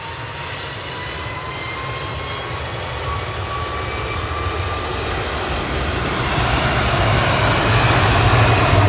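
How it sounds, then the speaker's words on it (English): An Airbus A330-200 departs Manchester Airport for Tenerife South, its jet engines a loud broad roar that builds gradually and grows stronger toward the end, with no talk. "Heading off to Tenerife South now. This is GVYGL A330-200 with flight 829."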